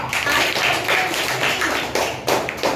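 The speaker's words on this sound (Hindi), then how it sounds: "जोर से ताली बजाओ" Children clap together in a classroom, a dense run of quick, uneven handclaps that swells in bursts, fairly loud and close, with no voices over it.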